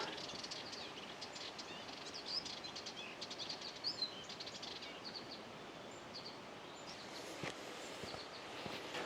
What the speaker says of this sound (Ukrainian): І далі я буду йти і слухати пташків.